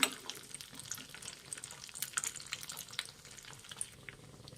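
Cashews and almonds frying in a pan for a carrot coconut laddu, giving a steady soft crackle with scattered sharper pops and clinks of a spoon, close and fairly quiet, with no talking.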